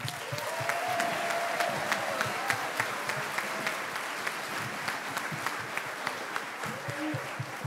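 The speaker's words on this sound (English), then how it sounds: "Let's give another round of applause for the fifth grade, please." Audience applause at a school band concert, a steady, moderately distant patter of many hands clapping throughout, with no talk over it.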